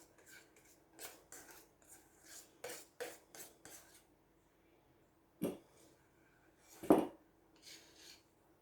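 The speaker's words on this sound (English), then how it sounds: "I do have a 1/4 cup of walnuts I'm going to chop up for the top" A quarter cup of walnuts chopped on a board for a chocolate cobbler topping, with a series of sharp knife chops and scraping taps in uneven bursts, the louder hits clustered early and a couple of strong ones near the end.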